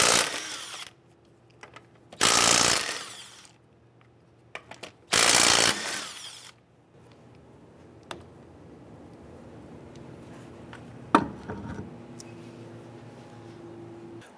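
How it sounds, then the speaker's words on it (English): A power tool fitted with a 21mm socket removes lug nuts from a 2005-2010 Chrysler 300, sounding as two loud, close bursts of about a second each, followed by quieter clicks and handling noise. "use our 21mm socket, loosen and remove our lug nuts"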